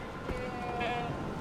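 A goat bleats in the video game Far Cry 4, a wavering cry of about a second standing out over steady game background sound.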